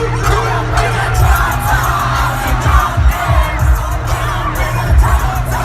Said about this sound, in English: And the crowd in the center just went wild.